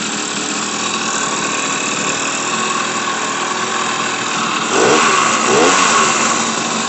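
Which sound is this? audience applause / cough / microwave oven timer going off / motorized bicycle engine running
motorized bicycle engine running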